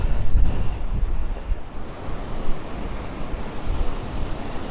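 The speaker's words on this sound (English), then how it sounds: "the wind is actually coming from the south, so the wind is coming this direction" Storm Gerrit drives strong wind and heavy surf onto the Blackpool seafront near high tide, a loud, continuous roar of breaking waves with gusts buffeting the microphone, and no voices.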